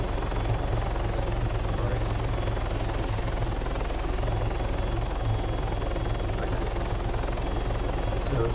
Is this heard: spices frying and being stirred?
no